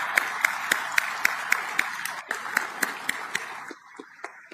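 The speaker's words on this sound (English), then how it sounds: "A round of applause for Nebraska" An audience at a military change of command ceremony claps for Nebraska, a modest round of distinct, fairly sparse hand claps in a reverberant hall, thinning out toward the end.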